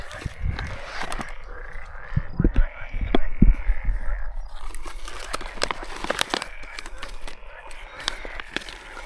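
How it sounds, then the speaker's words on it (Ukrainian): Frogs croak in a busy marsh chorus at a lake in Pollino, Italy, with scattered clicks and rustles up close and some faint voices mixed in. "але жаби квакають"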